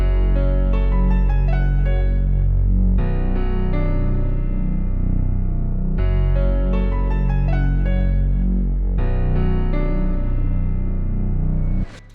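Deep sub bass holding long root notes beneath piano chords in a beat intro, a sustained low rumble that restarts every few seconds under sparkling piano, loud and steady with no voices.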